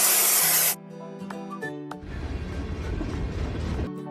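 Cartoon spray paint hissing onto a stain on a toy train, a loud continuous spray burst after some bright musical tones, rising hiss that runs for about two seconds before cutting off.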